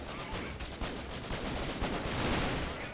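Sustained, dense gunfire rumbles through a guerrilla battle in Freeman: Guerrilla Warfare, a steady wash of overlapping shots and distant booming fire with no pauses, swelling slightly louder toward the end.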